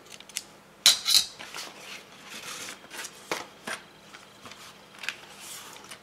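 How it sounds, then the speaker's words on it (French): Scissors snip off excess material while making a recycled Christmas gift bag: a few quiet, sharp cuts spaced irregularly over a soft, near-silent background. "Je vais couper l'excédent."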